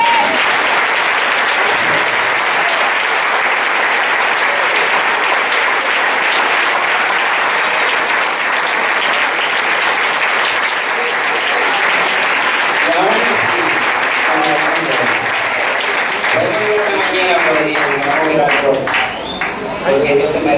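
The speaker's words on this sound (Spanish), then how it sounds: "¿Cuántos deben aplaudirle a Dios?" A church congregation applauding God, with dense, loud clapping that fills the whole stretch, then rising voices and cheering toward the end.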